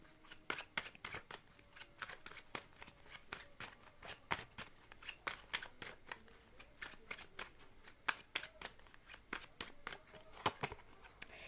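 Tarot cards are shuffled close and quiet, a long run of crisp riffling snaps and flicks repeating in an uneven rhythm.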